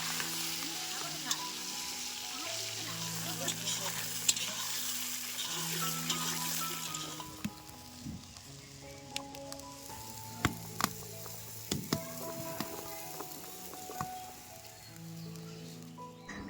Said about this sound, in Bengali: রান্না করছি শুটকি মাছের চচ্চড়িটা